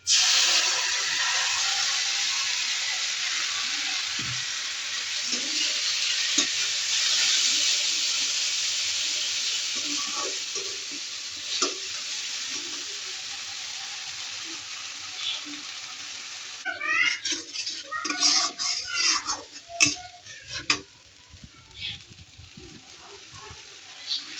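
Spices sizzle and hiss in a hot pan during Bengali home cooking, a steady frying wash with scattered scraping stirs that grow busier and more clattery toward the end; no one speaks.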